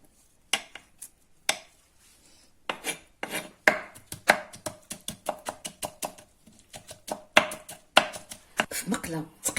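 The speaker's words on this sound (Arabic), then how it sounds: "وقطعيها مربعات صغيره بزاف." Eggplant being chopped into very small squares with a knife on a board, dozens of sharp close knocks in quick irregular bursts, sparse at first and then fast and dense.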